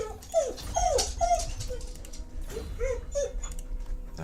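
A dog whimpering and yipping in a home during a Warhammer 2 livestream, a run of high, plaintive whines in short bursts, fairly close and clear over a low room hum, with a pause before more cries.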